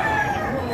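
A Boston Roundhead rooster gives a short, close crow, with a bit of nearby chatter and a poultry market bustle around it.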